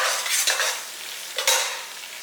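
Onions for mutton biryani frying in a pan, a loud close sizzle broken by two scraping stirs of a spoon through the pan.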